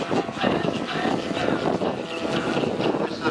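A large radio-controlled model plane with a specially built 250cc petrol engine flies at an air show, its engine a steady broadband drone mixed with crowd noise and wind buffeting on the microphone.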